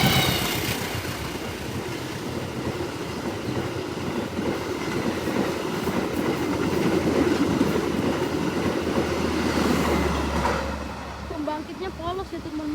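An Indonesian passenger train pulled by a vintage locomotive, the Majapahit service from Malang station bound for Pasar Senen, rumbles steadily past nearby for the whole stretch with a continuous rolling roar; someone talks over it.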